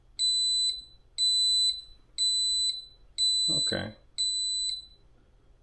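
A digital wall clock's countdown alarm sounds five bursts of sharp, high electronic beeping at a steady pace, each lasting about half a second, loud and close; a person speaks briefly between two of the bursts.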